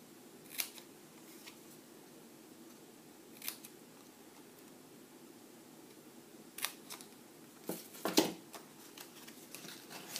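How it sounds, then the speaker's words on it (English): Small paper tabs being trimmed with scissors for a Cadbury Scream Egg mummy craft: a few faint, crisp snips spaced apart in a quiet room, clustering near the end. "Once that's done, just trim these small tabs."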